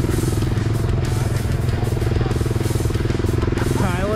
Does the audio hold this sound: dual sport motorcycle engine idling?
yes